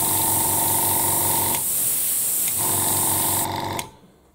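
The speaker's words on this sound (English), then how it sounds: "that's how the paint gets sprayed out of the airbrush" A dual-action gravity-feed airbrush sprays paint in a loud, steady hiss with a mechanical buzz, cutting out briefly midway before resuming and then stopping.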